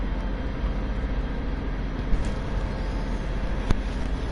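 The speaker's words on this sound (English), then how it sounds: "it's the little train that can do it" A Vossloh G6 diesel locomotive running in the Train Sim World 2 game, a steady low engine and rail rumble with a couple of brief metallic clanks, continuous and unaccompanied by speech.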